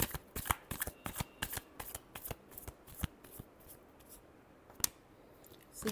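Tarot cards are shuffled close by in quick, crisp riffles and flicks, a rapid run of sharp snaps followed by a few slower, scattered card slaps.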